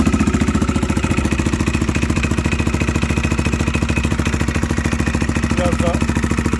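A CFMoto CForce 550 ATV engine idles steadily after starting, with a rapid, even putter and clatter, running continuously at close range without changing pitch.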